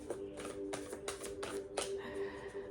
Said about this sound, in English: now we have our tarot cards. Let me give these a good shuffle.